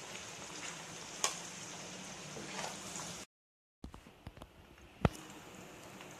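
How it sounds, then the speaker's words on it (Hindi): Capsicum and onion frying in oil for a red chilli chicken dish, a steady soft sizzle with occasional utensil clinks, a brief silent break, then quieter sizzling with a sharp tap. "अभी मैं इसे निकाल दूंगी और उसके बाद में प्याज को फ्राई करेंगे।"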